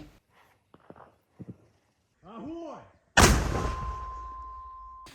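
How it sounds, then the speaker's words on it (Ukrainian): A Ukrainian mortar crew fires at dawn: a single loud, sharp blast follows faint knocks and a brief voice, then its rumbling echo decays slowly through the remaining seconds. "Наші мінометники відпрацювали ну, за ну, координатами, наданими аеророзвідкою"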